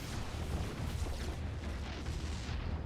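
An explosion as a cannon outpost is destroyed in StarCraft 2, a dense, steady rumbling roar that fills the whole stretch at moderate loudness with no break.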